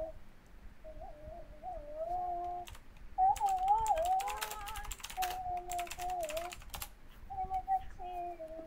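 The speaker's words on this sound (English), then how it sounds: "this gaming keyboard is loud" Rapid keystrokes on a loud gaming keyboard, with clattering bursts packed into the middle of the clip and steady cooing bird tones running underneath.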